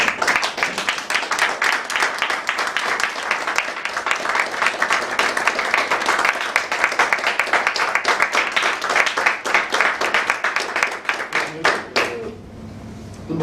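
An audience at an English club meeting gives sustained, fairly close applause with many dense overlapping claps, which stops abruptly near the end and leaves a quieter room.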